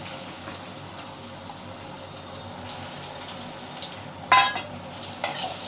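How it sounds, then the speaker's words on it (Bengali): Chopped onion frying with garlic in a hot pan gives a continuous sizzle, close and fairly loud, broken by a couple of sharp spatula scrapes near the end. "একটু পেঁয়াজ কুচি দিয়ে দিলাম।"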